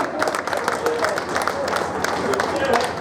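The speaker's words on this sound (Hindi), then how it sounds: "जोरदार तालियों से स्वागत" Loud crowd applause welcoming Chief Minister Nitish Kumar at a birth anniversary ceremony for the late Ram Lakhan Singh Yadav, a continuous dense patter of many hands clapping.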